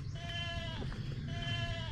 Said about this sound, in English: You can still hear the goats back behind us.